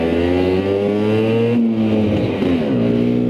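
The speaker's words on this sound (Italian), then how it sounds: "facciamo una curva con questa Vespetta per vedere come va" A Vespa scooter with 10-inch wheels and drum brakes ridden off-road, its small engine revving steadily up close, pitch climbing and dipping through gear changes and a turn.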